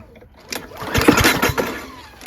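A Honda GCV160 lawnmower engine with its recoil starter pulled, giving a rough scraping, rattling pull with a few quick mechanical bursts, close and fairly loud.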